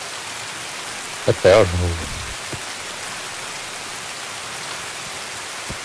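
Steady broadband rain hiss in the video game Escape from Tarkov, on the Shoreline map, runs throughout, with a short burst of voices talking near the start over the downpour.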